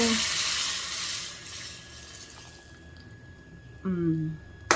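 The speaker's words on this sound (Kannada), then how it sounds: "ಒಗ್ಗರಣೆ ಹಾಕ್ಕೊಡ್ಬೇಕು" A loud, bright sizzle of spices hitting hot oil for a tempering bursts at the start, then fades to a soft crackle, with a few clinks afterward.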